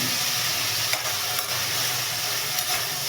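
Mushrooms and fresh green peas roast in oil and ghee in a pan, giving a steady close sizzle with stirring scrapes and a few brief clinks.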